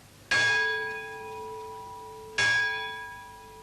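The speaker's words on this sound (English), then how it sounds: "the lutein bell was rung twice, signifying a successful salvage." The Lutine bell at Lloyd's rung twice, two clear metallic strikes about two seconds apart, each ringing on with a long sustained tone that slowly fades.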